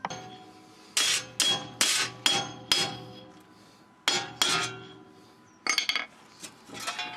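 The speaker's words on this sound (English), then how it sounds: "a little rapping with a hammer and they'll usually come right out" Sharp metallic hammer blows strike a seized 4x4 brake hub in a loose series, about ten raps with ringing decay, some in quick pairs, close and fairly loud with pauses between.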